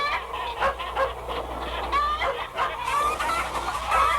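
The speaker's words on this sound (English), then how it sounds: "Shooing the hens into the roost." Hens cluck busily and nonstop as they are shooed into their roost on a farm in a 1972 animated film, a close, overlapping chorus of chicken calls.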